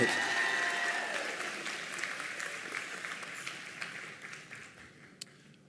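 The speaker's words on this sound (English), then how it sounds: "Another round of applause for Kadra." An audience at a nursing convocation ceremony claps as a sustained round of applause that gradually thins and fades over several seconds, with a faint voice beneath it.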